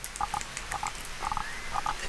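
Foley artist imitating a toad croaking at a pond, giving paired croaks repeated at a steady rhythm, roughly four pairs in two seconds, close and clear over faint background noise.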